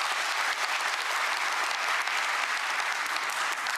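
Steady, dense applause from a large audience at a Korean national policy briefing event, continuous and even throughout with no voices standing out.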